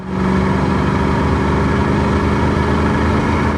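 A 1993 Ford Mustang GT Fox body with a 5.0-liter V8 and automatic transmission drones steadily from inside the cabin, a loud, constant low rumble under acceleration.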